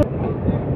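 Circar Express passenger train halted at a crossing loop while a goods train rolls past on the opposite track, a steady close rumble of wagons filling the whole moment.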